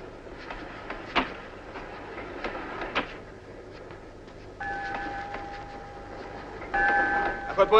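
A train, in the 1937 film Lenin in October, rumbles at a moderate distance, with sharp clanks and two sustained whistle-like tones near the end.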